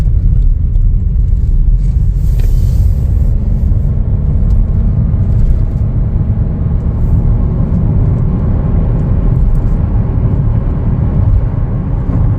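A 2025 Chevrolet Trailblazer LT cruising on the road, its steady low engine drone and tire rumble filling the cabin continuously and loudly with no talking.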